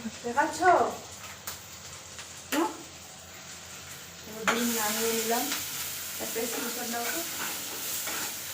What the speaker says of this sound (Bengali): ডিমের কালিয়ে করার জন্য মশলাগুলো ভালো করে ভেজে নিব